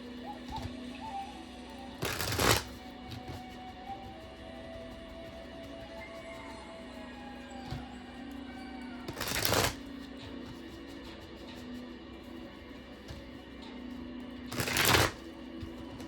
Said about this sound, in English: This deck is called the Angel Wisdom Tarot by Radley Valentine